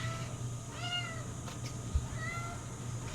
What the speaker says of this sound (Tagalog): Sorry, ang ingay ng pusa namin.